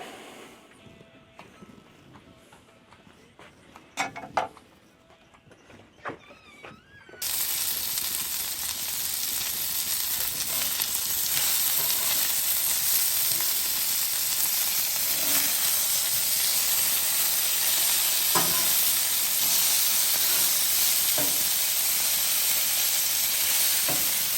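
A hot Blackstone griddle hisses and sizzles loudly and steadily during cleaning, the harsh steam noise starting abruptly after a few quiet seconds of light clatter and continuing without a break.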